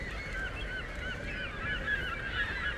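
Seagulls call repeatedly over a dock in Tomb Raider (2013), thin high cries rising above a dense, constant wash of ambient wind and sea noise, with no voices.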